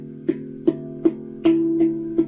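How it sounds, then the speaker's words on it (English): Muffled handpan notes struck in a slow, even rhythm, six soft thuddy hits with short, damped sustain, one held slightly longer, played close and alone. "so you don't get a muffled sound like this."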